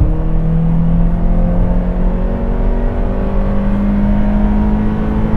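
A Honda Accord engine pulls hard in sport mode, its steady drone rising in pitch as the car accelerates from 120 to 140 km/h on a slight uphill, loud and continuous with road noise underneath.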